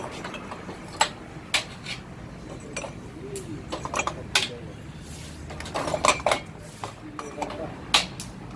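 Hot clay cups being lifted out of a tandoor for tandoori tea, scattered sharp clinks and knocks of pottery against metal, with someone talking over them and birds in the background.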